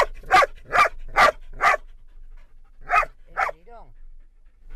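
Dogs, Belgian shepherds herding zebras, bark in a quick run of four sharp barks, then after a pause two more barks and a short high whine, close and loud.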